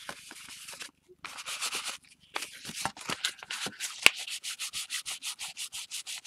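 Repeated scraping strokes of sanding through layers of paint, rhythmic bursts that quicken toward the end, with a short pause early on; fairly close.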